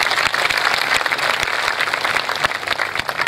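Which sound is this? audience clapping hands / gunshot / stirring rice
audience clapping hands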